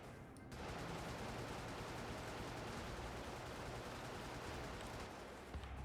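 Sustained machine-gun fire in the top-down mech game Brigador, a dense continuous rattling burst that runs for several seconds at steady loudness with no voices.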